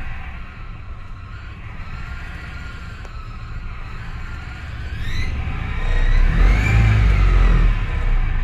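An old GMC truck fitted with a small turbo, long left for dead, idles with a rough, steady rumble, then the engine note deepens and grows louder as it is put into gear.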